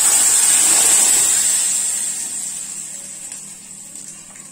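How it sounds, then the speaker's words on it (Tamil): Ground Chettinad kaara chutney paste hits a hot pan of fried dal and curry leaves with a loud, broad sizzling hiss that slowly fades over several seconds, with no talking. "இப்போ அரைச்சி வச்சிருக்கத இதில் நம்ம ஊற்றிடலாம்."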